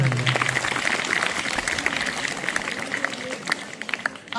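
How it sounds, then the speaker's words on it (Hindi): An audience at a school ranking ceremony in a village claps loudly and continuously, dense applause filling the space and fading out near the end. "मैं चाहूंगा इस परंपरा के लिए एक बार जोरदार ताली बजाइए।"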